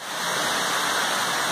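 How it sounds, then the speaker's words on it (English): Water from a cave waterfall pours down into a narrow rock crevice, a steady, dense rushing roar that stays loud and unbroken throughout, with no voices over it. "There's a nice waterfall that goes down into this crevice and then down."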